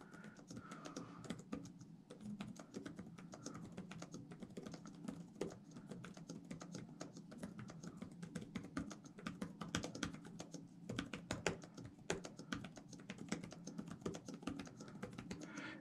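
Fast typing on a computer keyboard during a speed-typing drill: a dense, rapid stream of light key clicks, steady and close but quiet, with no talking.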